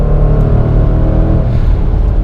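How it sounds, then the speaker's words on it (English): A 2019 Jaguar F-Pace SVR's 550 hp V8 rumbles loudly and steadily from inside the car on the German Autobahn, a deep continuous engine drone with no talk over it. "listen to this V8."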